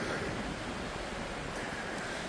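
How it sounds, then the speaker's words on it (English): Strong, relentless wind on the Pacific Crest Trail near Cedar Spring, a loud continuous roar buffeting the microphone with no break across the short stretch. "the wind has been relentless since I'm getting up here"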